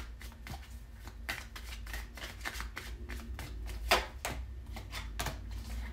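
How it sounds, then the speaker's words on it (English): A deck of tarot cards is shuffled up close in a quiet room, giving a soft, continuous run of rapid riffling and slapping flicks with a few sharper snaps. "the Strength popped out as I was shuffling"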